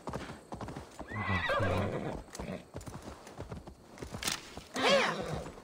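In the video game Assassin's Creed Valhalla, hooves clip-clop in a steady trotting rhythm while a horse neighs loudly twice, the whinnies rising and falling over the footfalls.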